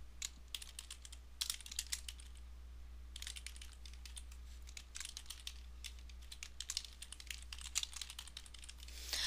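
Quiet, steady keyboard typing with rapid clicking keystrokes in bursts and brief pauses, close by, with no voices.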